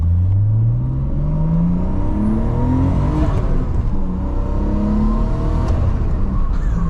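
A Nissan Skyline R32 GTST engine revs and pulls from inside the cabin, its pitch climbing through rising gear sweeps, loud and close with steady road rumble underneath.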